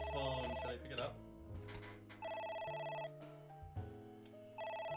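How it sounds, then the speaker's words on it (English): A telephone rings with a repeating electronic tone in bursts, fairly loud and close, each ring pattern separated by short gaps, with a voice talking faintly underneath. "A phone. Should I pick it up?"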